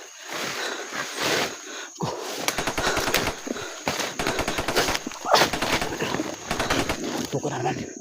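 Rapid machine gun fire in bursts during an intense armed clash, loud and close with sharp repeated reports, overlapping shouting voices throughout.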